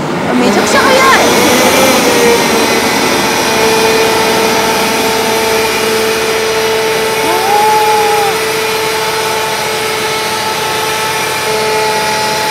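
A truck engine on a race circuit revs under throttle, rising briefly in pitch and then holding a loud, steady mechanical drone, with voices over it.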